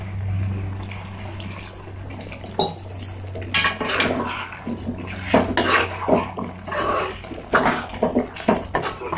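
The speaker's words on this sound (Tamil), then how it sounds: "இந்த ஸ்டேஜ்ல நம்ம கொஞ்சமா தண்ணி ஆட் பண்ணிக்கலாம்." Water poured into a cooking pot of mutton masala, with metal clinks and scraping of a utensil against the pot in irregular bursts, close and fairly loud.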